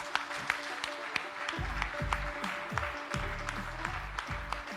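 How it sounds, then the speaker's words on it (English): An audience at the BIDA Summit 2025 investment event applauds an honoree, giving moderate, scattered clapping that swells into a continuous round in a large hall. "ladies and gentlemen, a round of applause for Mr. Ki Hak Sung, please."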